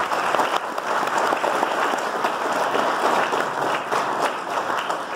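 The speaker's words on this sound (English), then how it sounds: "Give them another round of applause." Dense, steady audience applause fills a jazz concert night at a community college, a continuous wash of many hands clapping close and loud from start to finish.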